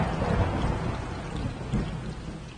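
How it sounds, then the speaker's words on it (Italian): Steady heavy rain falls with a deep rumble of thunder in a thunderstorm, a dense continuous wash of noise with no voices. "fuori piove."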